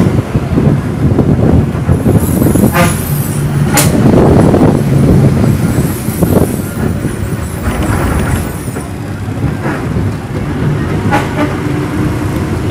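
A TNSTC bus travelling through moderate Coimbatore city traffic heading toward Gandhipuram, with a steady rumbling engine and road noise, occasional rattles and a few sharp clanks, and no talking.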